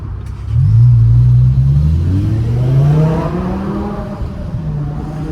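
A BMW E60 M5 engine revs hard inside a tunnel, with a deep rising roar that climbs, dips at a shift, and climbs again, loud and close from the cabin.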